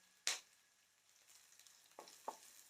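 A sprig of curry leaves sizzles faintly in hot ghee for carrot rice, with a sharp initial spit followed by soft crackling and a few light stirring clicks.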